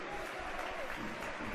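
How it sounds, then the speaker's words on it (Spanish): A stadium crowd applauds a substituted player during a Real Oviedo football match, steady distant clapping throughout with a commentator speaking over it. "Ovación para Héctor Font, para el exfutbolista del Villarreal"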